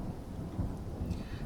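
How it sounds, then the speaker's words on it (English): A rain and thunderstorm effect of continuous heavy rain hiss with deep rolling thunder rumbles swelling underneath, fairly quiet and steady, without voices. "Rain battered the windows."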